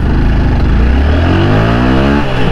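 A car pulling away hard in first gear, its engine revving loud and close with a rising whine that climbs steadily, then drops briefly near the end.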